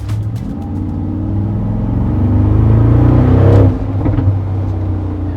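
A 2023 Mercedes-AMG G63 in AMG Sport Plus mode gives a loud, deep exhaust rumble that swells under acceleration, peaks, then drops sharply before settling into a steady burble.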